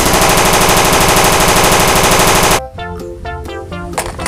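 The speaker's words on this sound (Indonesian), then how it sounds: "M16." A toy M16 rifle fires a loud, rapid burst of automatic gunfire lasting a few seconds, then stops abruptly as music-like tones take over.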